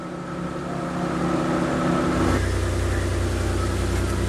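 A Mitsubishi Delica/Pajero engine runs in neutral with the parking brake set, a loud steady idle hum nearby whose tone shifts slightly midway and then settles into an even rumble.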